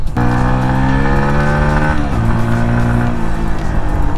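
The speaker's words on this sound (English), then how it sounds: "we're in sixth gear. We're pulling almost 65 miles an hour." A CFMOTO Papio 125 motorcycle in sixth gear near 65 mph holds a steady, loud engine drone with engine harmonics and wind rush, and the pitch dips briefly around a shift in load midway.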